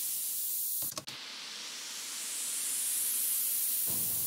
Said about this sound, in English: I've just got this white noise riser, which I grabbed from my sample pack.